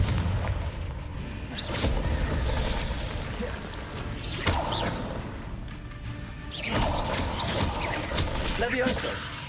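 Confringo fire-blast spell in Hogwarts Legacy detonates in repeated loud booms mixed with clattering combat effects and whooshes, several blasts spread over a few seconds, close and full amid busy game sound.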